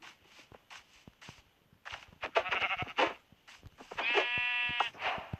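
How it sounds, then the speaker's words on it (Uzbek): Game sound effects of sheep bleating, several sharp bleats with light footstep clicks between them, loud and close, in a modded survival game. "Har xil rangli qo'ylar chiqyaptimi?"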